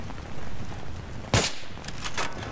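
In the game Battlefield 3, a single sharp gunshot cracks out about midway, followed by a couple of fainter, softer shots against a quiet background.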